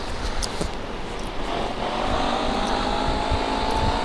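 A motorbike engine hums steadily nearby, its drone rising slightly in pitch and loudness toward the end, with no talk over it.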